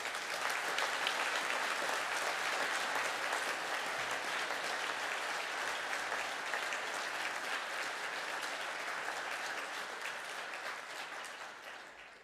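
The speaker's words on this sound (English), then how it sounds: "Can the class please stand for their applause?" An audience at a graduation ceremony applauds the graduating class, a steady wash of many hands clapping that holds for over ten seconds and then starts to fade.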